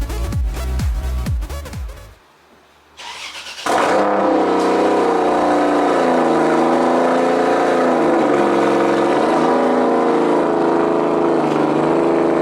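A Mustang drift car being unloaded from a trailer: a loud engine idles and revs, with a brief quiet gap before the engine settles into a steady, droning run.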